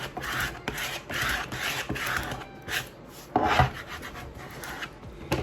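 Rubbing a transfer onto a wooden farmhouse sign gives close, repeated scratchy strokes in an uneven rhythm, with a louder burst of rubbing near the end and no talking.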